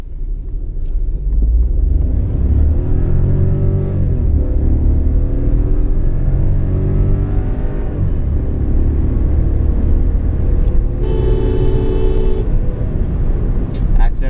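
A Skoda Rapid accelerates hard during a test run, its engine a loud, sustained rumble that rises in pitch through the gears, with a person talking over it.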